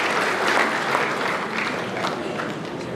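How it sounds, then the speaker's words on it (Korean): Applause for the outgoing People Power Party South Chungcheong provincial chairman at a party ceremony, a dense continuous roar of clapping from a large crowd, loud and even throughout. "여러분 큰 박수 보내주시면 고맙겠습니다"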